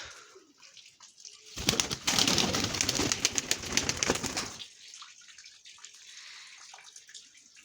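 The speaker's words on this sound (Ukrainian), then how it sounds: "Гарна голубочка" Soft coos of a chocolate-marble Baku pigeon over a quiet background, broken by a burst of splashing water like a bath being run for a few seconds.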